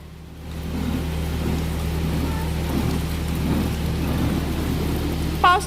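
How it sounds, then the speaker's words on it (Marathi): Heavy rain pours down in a steady, dense hiss that holds evenly throughout, with a brief faint sound near the end. "एवढं पाऊस चालू आहे"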